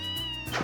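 A cat meows in the video game Ys SEVEN, one drawn-out, clear, close cry with a higher rising tail near its end.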